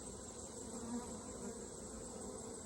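Honey bees buzz steadily on a hive frame during an August hive inspection, a dense, continuous droning hum that stays close and even throughout with no talk.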